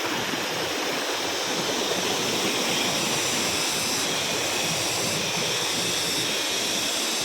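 A steady, full rush of flowing stream water at Bambi Falls, close and continuous, with no voices.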